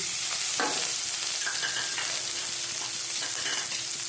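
One hot red chili and two green chilies hit hot oil and sizzle steadily, with a soft frying hiss throughout and a few stirring scrapes and clinks from the pan.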